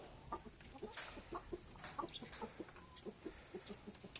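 Rhode Island Red breeder chickens, heritage birds kept as two hens and a rooster, clucking in soft repeated bursts around a farm, faint and fairly close, with no talking.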